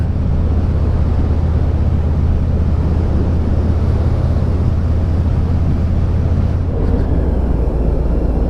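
A Harley-Davidson Road King ridden without a windshield, with constant loud wind buffeting mixed into a low engine rumble, steady and unbroken, with a brief dip near the end.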